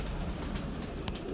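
Pigeons coo softly in a breeder's loft in Karachi, a low murmuring warble under a steady noisy background, with one faint brief higher chirp near the end.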